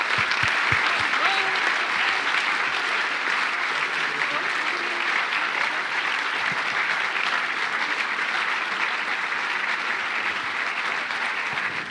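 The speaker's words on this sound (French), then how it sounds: "je vous suggère d'applaudir bien fort le jury des jeunes." Long, steady applause from a festival closing-ceremony audience for a youth jury, a dense even wash of clapping sustained for about twelve seconds, with a few faint voices under it.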